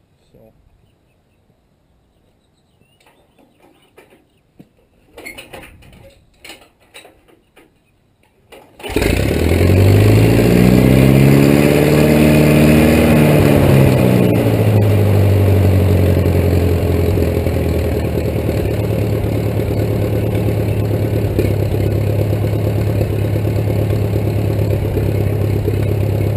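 A 1941 Case SC tractor cranks briefly, then its engine catches and settles into a loud, steady low idle that continues to the end. A short bit of speech and some clatter come before the start.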